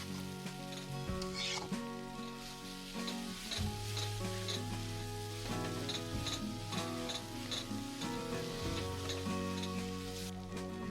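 Mashed potato with green chillies, ginger and garlic fries in a pan, giving a steady sizzle with stirring scrapes and ticks, under a continuous musical background.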